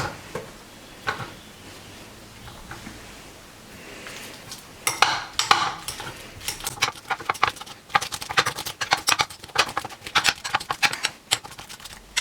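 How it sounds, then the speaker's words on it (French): Mixture being stirred in a bowl for homemade vegan falafels, muffins or wraps: quiet scraping at first, then irregular clinking and tapping of a utensil against the bowl, close and alone. "On mélange un peu."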